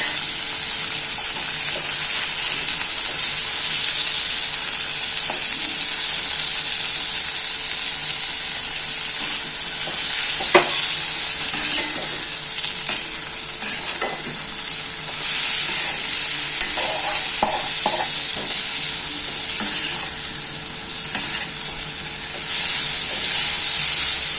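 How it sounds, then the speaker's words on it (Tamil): Onion, tomato and capsicum sautéing in a pan with rock salt, a continuous bright sizzle with occasional stirring scrapes and clinks, close and steady throughout. "இல்லை கல்லுப்பு கொஞ்சம் போட்டு வதக்கிக்கலாம்"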